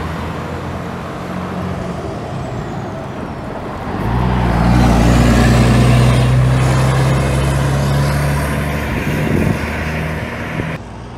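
A Leonardo Turismo bus rumbles past at a bus station in Goval, Minas Gerais, its low engine drone swelling loud and close midway and holding steady over constant traffic background.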